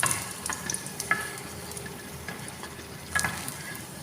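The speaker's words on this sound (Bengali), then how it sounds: "আমি এখানে ডুমুর ফলটা কিন্তু ভেজে এই দেখো বাটিতে তুলে নিচ্ছি" Figs frying in hot oil in a pan, a dense steady sizzle with light stirring scrapes and a few soft clicks, close and continuous with no talking.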